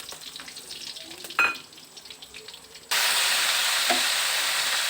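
Bay leaves, cardamom, cinnamon and whole spices dropped into hot oil, quiet crackling and a clatter first, then a sudden loud, steady sizzle filling the rest.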